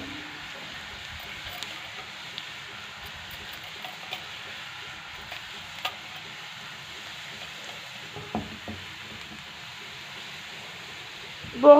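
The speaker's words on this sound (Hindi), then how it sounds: "जैसे ये तड़का तैयार हो रहा है तो इसके अंदर मैं ज़ीरा डाल दूँगी, 1/2 टेबल स्पून ज़ीरा, और इसको मिक्स करूँगी।" Cumin seeds sizzling in hot oil for a chana dal tadka, a steady soft crackling hiss throughout with a few small pops and a louder clatter at the very end.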